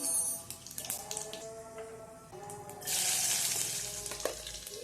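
Cumin seeds and garlic dropped into hot oil in a kadhai, a crackling sizzle that rises and then settles before bursting into a loud, steady frying hiss, close and with no voices over it.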